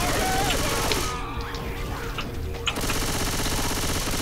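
Rapid gunfire bursts in the zombie shooter Left 4 Dead 2, dense and loud at the start and end with a quieter stretch in the middle, mixed with game effects.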